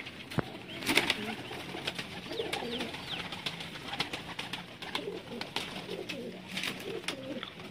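Pure Sheikh breed pigeons cooing steadily in a loft, soft repeated coos overlapping with occasional wing flutters and a few sharp knocks, close by.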